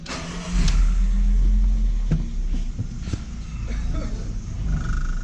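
A lowered Chevrolet Corsa pickup pulls away, its mid-pitched engine rumbling loud and close before settling into a steady drone as it drives off.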